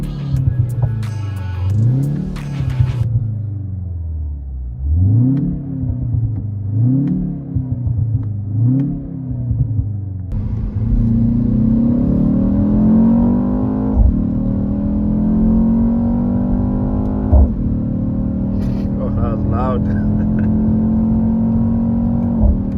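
A BMW X2 M35i engine as heard from inside the cabin, revving in rising and falling swells for the first ten seconds, then settling into a steady, loud, droning pull with a rich harmonic growl under acceleration.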